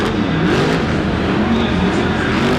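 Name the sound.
tough trucks racing on a dual track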